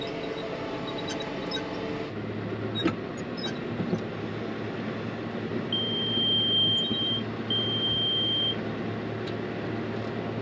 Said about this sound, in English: the oversized bell alarm keeps going off about every third bell when I close the baler up